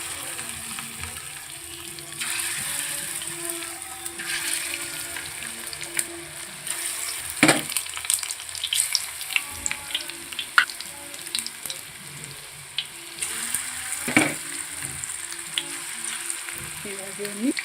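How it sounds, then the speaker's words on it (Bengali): Chicken pieces for restaurant-style spicy chilli chicken frying in hot oil over a medium flame, a steady close sizzle with occasional sharp pops and spatters, no voices. "এইভাবে আমি পিসগুলো ভেজে নেব, কিন্তু বেশি হাইতে দেওয়া যাবে না।"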